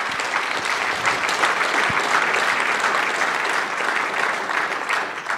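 Sustained applause from a conference audience, dense and even clapping from many hands filling the room at steady loudness for several seconds before easing slightly at the end.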